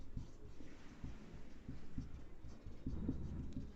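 Marker or chalk scratching across a board during an accounts lesson on partnership, several quick strokes in uneven bursts, close but fairly faint, with no talking.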